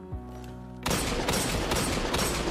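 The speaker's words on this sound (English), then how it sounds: "I fucking love this hand cannon," Hand cannon firing in Destiny 2, a dense run of loud, close gunshots breaking in abruptly after a quiet tonal opening and continuing steadily to the end.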